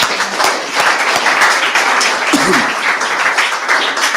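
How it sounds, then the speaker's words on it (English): A room full of people claps steadily for a chief rabbi, dense applause near and loud throughout with a brief voice poking through midway. "A big clap for our Chief"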